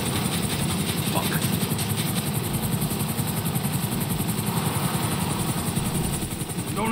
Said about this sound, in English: flying a chopper